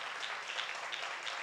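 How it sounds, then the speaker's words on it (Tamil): A church congregation at a Sunday service claps steadily in a soft, even wash of applause that carries on without pause. "கைத்தட்டி அவரை மையப்படுத்த பார்க்கலாம்."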